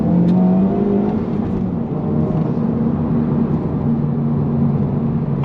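A Honda Civic Type R FL5 on its stock exhaust accelerates hard in second gear, the engine note climbing steadily in pitch as it pulls, loud and continuous from the cabin with no talking.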